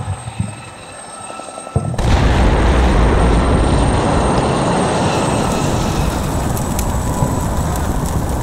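A tank in a Combat Mission: Black Sea battle starts up abruptly after a quiet start, its loud, heavy engine rumble and clatter running on continuously.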